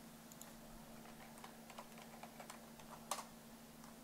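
Quiet, scattered keystrokes on a computer keyboard, light irregular clicks with one sharper tap near the end, over a steady low electrical hum and no talking.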